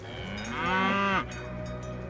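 A cow in the video game Dungeons of Hinterberg lets out one long, close, rising and falling moo lasting about half a second, over quiet ambient game sound.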